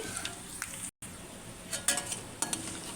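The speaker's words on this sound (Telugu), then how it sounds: "ఎండుమిర్చి తాలింపు కొంచెం రెండు రెమ్మల ఎల్లుల్లిపాయలు ఇవి మంచిగా ఫ్రై అవ్వాలి" Dried red chilies and garlic cloves frying in oil for a South Indian tempering: a soft continuous sizzle with a few light utensil clinks and stirs, briefly cut by a moment of silence.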